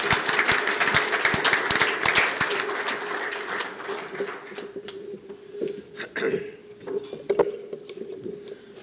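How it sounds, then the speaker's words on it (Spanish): Audience applause at an engineering conference, a steady burst of many hands clapping that thins out and fades into scattered claps over several seconds. "Recibamos con un aplauso a nuestro compañero Federico Schroeder."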